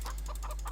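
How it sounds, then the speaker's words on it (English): Chickens in the Farming Simulator 2013 video game clucking in a quick, steady run of short calls, close and clear over a low constant hum. "Oh, look at the chickens all popping out."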